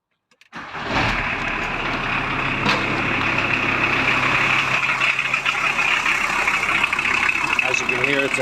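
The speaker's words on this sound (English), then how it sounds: "Do a cold start on it." A VW Transporter T4 with a 2.4 diesel engine cold starts after a short crank and settles into a steady, loud, close idle for several seconds.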